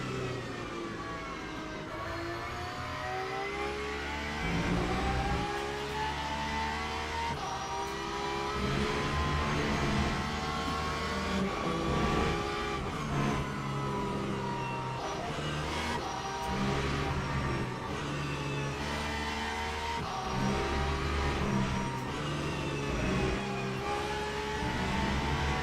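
Hypercars roar past GT3 cars in the Le Mans Ultimate racing game, with a continuous dense engine drone and rising and falling revs as several cars overtake.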